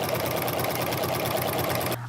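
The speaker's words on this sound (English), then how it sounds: "we are done with the sewing machine" A sewing machine stitches quilt binding in a fast, even, continuous whir that runs loud and close, then cuts off abruptly near the end, leaving only faint room hum.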